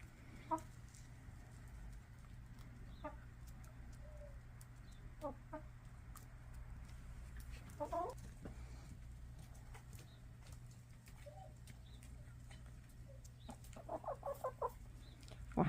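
Backyard hens out of the coop cluck softly and intermittently, with a few louder bursts of clucking near the end, over a steady low hum and no talking.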